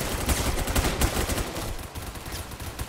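Video game gunfire in rapid, dense bursts, loud and continuous like automatic weapon fire, filling the whole short stretch without any talk.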